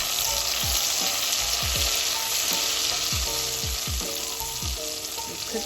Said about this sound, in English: garlic until it gets fragrant. You want it to get a little brown.